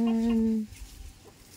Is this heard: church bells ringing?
no